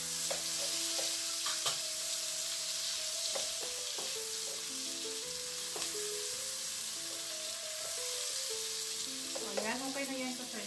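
Onion and tomato sautéing in a pan, a dense steady sizzle with frequent spatula scrapes and stirring clatter, close up and fairly loud throughout.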